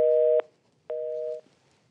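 A telephone busy signal sounds after a disconnected call: two loud, steady beeps of equal pitch, each lasting about half a second, separated by a short silence.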